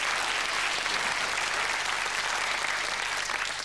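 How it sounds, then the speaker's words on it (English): A studio audience at a 1990 Yorkshire TV talk show claps in steady, sustained applause that holds evenly from start to finish. "Give her a round of applause anyway."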